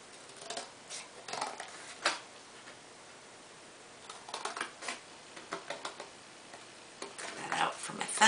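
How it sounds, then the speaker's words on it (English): Scissors snip through cardboard while a fingerless-glove pattern is cut out: quiet, intermittent crunchy clips and short cutting strokes in irregular bursts, close by with no talking. "So let me get this all cut out. Cardboard's a little hard to cut."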